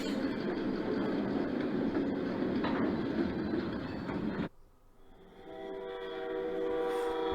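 A model train rumbles steadily along its track, then the noise drops abruptly and a softer whirring hum with faint tonal whine takes over.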